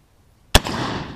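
A single sharp, loud gunshot crack from a CVA cap and ball black powder rifle, followed by a long rolling boom that slowly fades.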